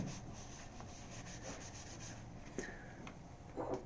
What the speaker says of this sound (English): Take some of your hot water with cleaner and just scrub this to get all the old coffee residue off